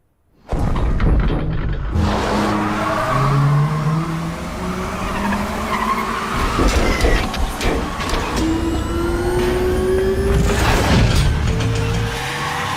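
Batmobile Tumbler from a live-action Batman film, an engine roaring and tires skidding loudly and continuously, with rising whines and crashing bursts throughout, close and intense, no voices.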